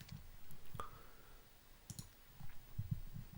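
Sparse, faint mouse clicks while navigating SAS Studio on a computer, a few isolated sharp taps spread across a quiet room background.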